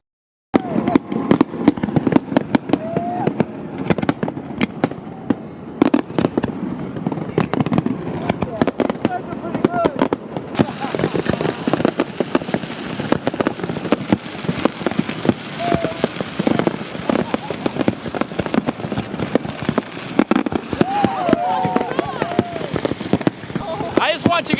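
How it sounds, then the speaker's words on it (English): New Year's fireworks over the Cabo resorts seen from a sailboat, a dense barrage of cracking bursts and popping crackle, loud and continuous, with distant booms and faint voices mixed in. "We then went back to Prism to enjoy the firework displays."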